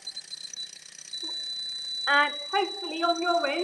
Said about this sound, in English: you can also hear this really annoying noise coming from this buzzer